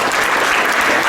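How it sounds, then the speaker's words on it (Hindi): Students at a motivational exam-study seminar break into loud, dense applause, a steady wash of clapping filling the whole short moment with no voices over it. "सो जोरदार ताली हो जाए दोस्तों।"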